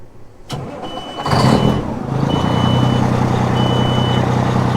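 A diesel work truck's engine cranks, catches and settles into a loud, steady idle up close, with a thin electronic beeping tone running over the rumble.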